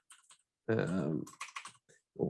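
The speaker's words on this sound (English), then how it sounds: "here my loud clacky keyboard" Rapid clacking keystrokes on a loud, clicky computer keyboard come in short bursts near the mic, with a voice speaking briefly just before them.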